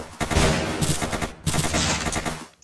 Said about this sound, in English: Someone sniped me one shot.